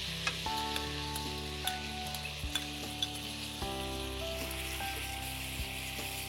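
Tomato paste sizzling in a pan while a shrimp dish cooks, a close, steady frying hiss under sustained tonal hum with occasional light stirring clicks; no one speaks.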